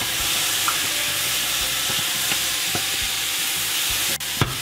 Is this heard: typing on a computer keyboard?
no